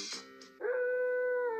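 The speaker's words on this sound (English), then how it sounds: "that's what you get for being a cat and howling" A cartoon cat yowls in a short rising cry, then holds a long, steady, tonal howl, fairly close and clear with no speech over it.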